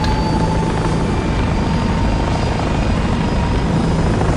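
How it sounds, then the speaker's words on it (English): Gyrocopter sound effect from a radio drama: a loud, steady, close rotor and engine drone that stays constant throughout with no voices. "It's a bloody gyrocopter, you imbeciles!"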